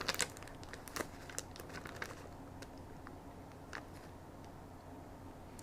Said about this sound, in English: Meanwhile, I'm just going through all my stickers.